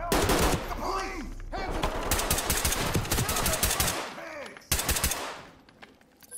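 Gunfire in the tactical shooter Ready or Not, with rapid bursts of loud, close automatic fire running almost continuously, a brief pause, then another sharp burst, over faint voices.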